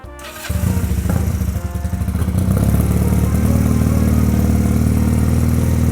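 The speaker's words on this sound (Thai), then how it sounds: "มาฟังเสียงท่อกันก่อนเลยดีกว่า" A GPX Legend 250 Twin Mark II motorcycle from 2020, fitted with an aftermarket exhaust, starts and settles into a loud, close, steady rumbling idle with throttle blips.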